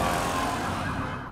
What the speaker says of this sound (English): you can already hear sirens starting